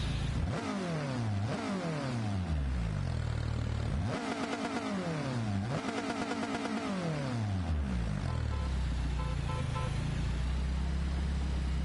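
A Hyundai Elantra N in Gran Turismo 7 revs hard through repeated upshifts, its engine note climbing and dropping several times in a row before settling into a steady drone, loud and close with no talking.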